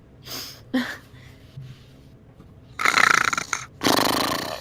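A person imitates snoring during a tabletop roleplaying game session, giving a few short snorting breaths and then two louder, rasping snore bursts near the end, close to the microphone.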